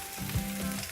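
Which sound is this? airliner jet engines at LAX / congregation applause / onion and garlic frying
onion and garlic frying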